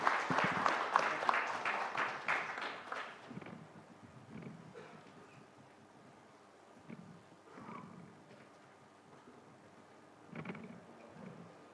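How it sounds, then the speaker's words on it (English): At a CII Unicorn Summit session, a hall audience applauds Sanjeev Bikhchandani, with a burst of clapping at the start that quickly fades into scattered claps and low room noise. "a round of applause for Sanjeev Bikhchandani"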